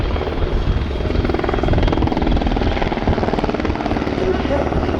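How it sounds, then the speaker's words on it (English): Medium-sized twin-engine multi-purpose helicopter built by a Polish company flies at the RIAT airshow, a loud, steady rotor thump and turbine roar throughout, with a commentator's voice talking over it. "is a medium-sized, twin-engine, multi-purpose helicopter, developed and manufactured by Polish helicopter company"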